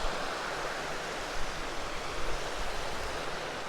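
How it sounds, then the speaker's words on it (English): Laxey river on the Isle of Man rushing beneath the Old Laxey New Bridge, a steady broadband wash of flowing water, moderately close and continuous, with no voices. "has the river flowing underneath it"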